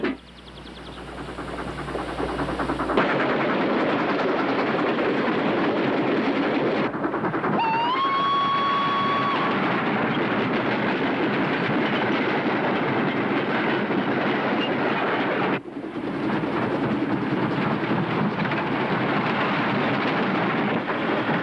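A moving train in the film The Great Train Robbery rumbles steadily with rhythmic clattering of the cars, loud and continuous, with a brief high whistle-like tone partway through and no talk.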